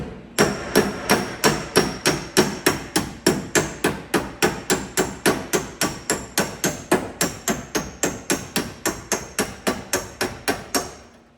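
A hammer strikes the rear wheel arch of a JDM Honda Integra DC2 Type R during arch replacement, delivering a long, steady run of loud, evenly spaced metallic blows at close range, with no talking.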